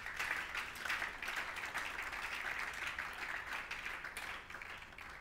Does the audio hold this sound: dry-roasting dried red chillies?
no